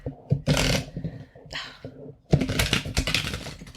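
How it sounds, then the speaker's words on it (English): Nightmare Before Christmas playing cards being shuffled by hand, with close, crisp bursts of riffling and flicking separated by short pauses, the longest rush coming near the end. "I am shuffling and I'm shuffling Nightmare Before Christmas cards"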